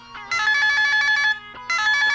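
An altered cell phone rings as an audio drama effect, sounding two bursts of rapid, warbling electronic trills separated by a short pause, loud and close with no talk.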